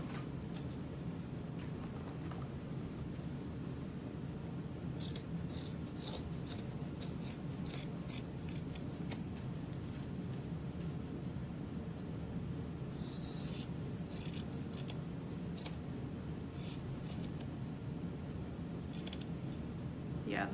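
Scissors snip and rasp through excess leather while trimming a handmade clutch wallet, a steady run of close, crisp cuts over about twenty seconds with no talking.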